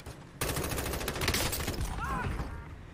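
Sustained automatic gunfire in the mobile shooter Warzone Mobile, a loud continuous burst of rapid shots starting abruptly and running throughout, with brief whistling effects mixed in near the end.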